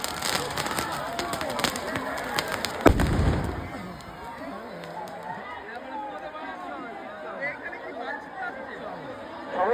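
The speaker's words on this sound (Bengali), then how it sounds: "যেখানে বাজিগুলো পোড়ানো হচ্ছে ওই চত্বর থেকে আপনারা দূরে যান।" Fireworks and firecrackers burst at a crowded Diwali gathering, with a loud deep blast near three seconds amid sharp crackles and pops, under constant crowd chatter and voices.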